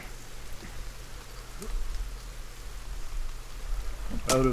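Steady rain falls in the video game The Forest, a soft continuous hiss of drops with low rumbling background, and a brief sharp tonal burst near the end.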